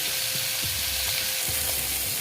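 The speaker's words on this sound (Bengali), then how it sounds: "গ্যাসটা একটু বাড়িয়ে দিলাম বাড়িয়ে একটু মাছটা ভেজে নিচ্ছি" Boal fish frying in a pan over a raised gas flame, giving a steady, dense sizzle with soft crackles and occasional low bumps, close and continuous with no talking.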